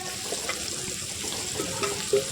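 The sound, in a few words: chopped onion frying in mustard oil in a wok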